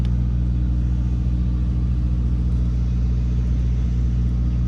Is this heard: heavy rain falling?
no